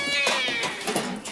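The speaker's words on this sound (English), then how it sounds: "And finally, he sights the cat." A wary three-legged cat, cornered during a rescue, lets out a loud, drawn-out meow that edges into a caterwaul, close and unaccompanied by speech, over about a second.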